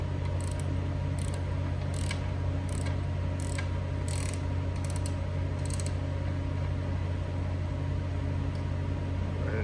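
A ratchet working a short bolt on a John Deere 1025R compact tractor during a front carrier bearing replacement, a few quick clicking bursts over a steady low mechanical hum.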